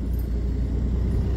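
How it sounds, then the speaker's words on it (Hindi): Road traffic rolls past as a steady, close low rumble of car engines and tyres, continuous and unbroken for a brief moment. "और ये भाई ट्रैफिक, रोड ट्रैफिक जो है"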